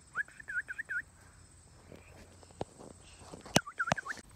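Bird calling in a yard: a quick run of high chirping notes, then a second burst after some sharp knocks, faint against a quiet outdoor background.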